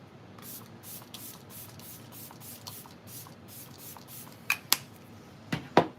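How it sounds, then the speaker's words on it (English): A makeup setting spray fires in a quick run of short, soft pumping hisses, close to the mic at a steady rhythm, followed by a few sharper clicks and taps near the end. "Let's do one more spray."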